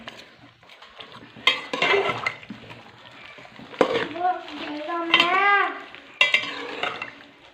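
Eggplant and potatoes fry in a pan for a village-style eggplant curry. A spoon scrapes and stirs against the metal in bursts over a soft sizzle, with a brief clatter of utensils and no speech.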